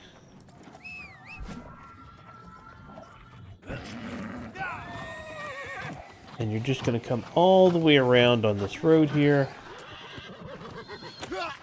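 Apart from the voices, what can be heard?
horse neighing and hooves in New World video game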